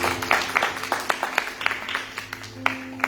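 A church congregation claps in scattered bursts during a worship service, moderately loud with irregular rhythm and some voices underneath.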